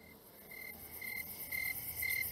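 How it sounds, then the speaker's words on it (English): Crickets chirping in a steady outdoor chorus, a sustained high trill with faint pulsing, moderately quiet and without voices. "This next one is crickets."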